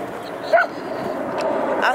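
Dogs in a Brooklyn park let out a short bark and a few yips and whimpers, moderately close, over outdoor ambience and a person talking.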